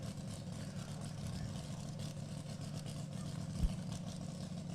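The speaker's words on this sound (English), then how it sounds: "Get this car down the racetrack. A little test and tune lap." A drag race car makes a test-and-tune lap at Route 66 Raceway. Its engine drones steadily at moderate level throughout, with a brief louder burst late on.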